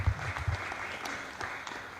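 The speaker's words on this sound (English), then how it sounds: "Another round of applause for the chairperson." Crowd applause, fairly faint and diffuse, a steady patter of many hands clapping with no talk over it.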